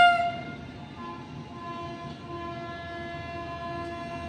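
A Vande Bharat Express train departs New Delhi railway station, its loud sustained horn tone fading into a steady rolling rumble of the moving train.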